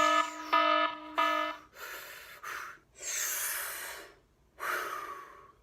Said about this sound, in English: that was just a little alarm I installed before I started this video.